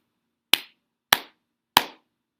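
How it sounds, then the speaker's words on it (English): Three crisp, evenly spaced hand claps mark the syllables of a word during a children's reading lesson, each one sharp and close with a quick decay and silence between them. "Let's clap to elephant."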